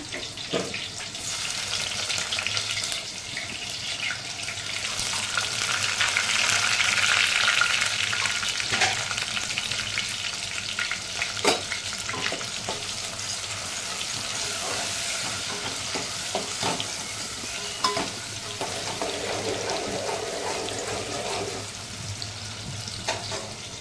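Garlic, onion, tomato and curry leaves fry in a pan with a continuous loud sizzle, swelling in the middle, while occasional stirring knocks and faint running-water splashes come through; nobody speaks.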